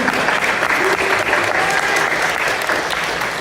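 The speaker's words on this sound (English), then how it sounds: "I'm clapping for that" At a G-Fest kaiju writers convention panel, a crowd applauds in a loud, continuous, even patter of clapping that carries through the whole stretch.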